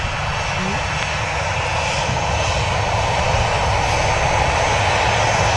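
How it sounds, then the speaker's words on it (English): Jet engines of a Boeing 737 spool up with thrust at Manchester Airport in wet weather, a loud, constant broadband roar that fills the whole stretch, with voices talking faintly beneath it. "Giving the 7-3 a bit of thrust there."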